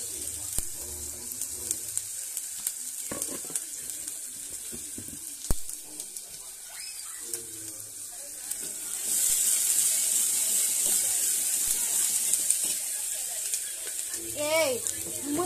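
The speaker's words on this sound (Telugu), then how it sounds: "కరివేపాకు వేసుకోవాలండి." Curry leaves go into hot oil while tomato rasam is being made in a home kitchen, and a steady crackling sizzle swells partway through, mixed with clinks, stirring and water sounds as people talk nearby.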